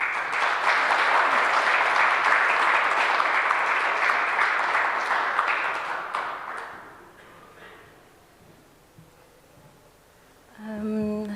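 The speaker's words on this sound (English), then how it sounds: "Please give her a big round of applause." An audience at a heritage seminar applauds steadily for about seven seconds before the clapping fades to near silence, followed by a brief tonal sound at the end.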